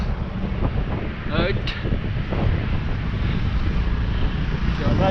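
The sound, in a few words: strong wind blowing during a mountain bike ride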